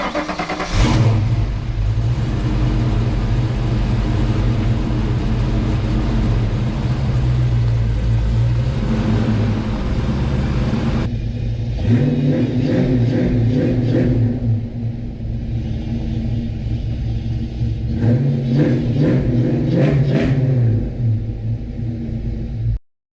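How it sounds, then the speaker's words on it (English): A Ford Mustang Fox Body with its old exhaust starts and idles with a deep rumble, then is revved in several rising and falling bursts; the engine is close, loud and alone. "Let's fire this thing up so you can hear it one last time with this exhaust on it before we put the new stuff on."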